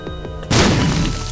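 A bomb explodes in The Binding of Isaac with a sudden loud boom, following a couple of soft thuds and trailing into a rumbling decay.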